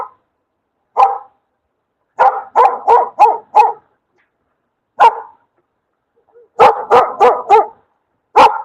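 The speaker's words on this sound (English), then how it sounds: "These are three, I mean are four dogs." Four dogs bark from behind a wall in loud, close volleys, single barks alternating with rapid bursts of four or five, separated by brief silences.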